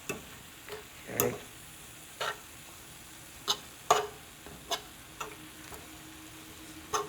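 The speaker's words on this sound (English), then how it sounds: "you have to keep stirring it because you have layers on top of each other" Cabbage with soy sauce stirred in a pan, with a soft sizzle running underneath and a string of separate scrapes and clacks from the utensil at an irregular, unhurried pace, close and fairly quiet, no talking.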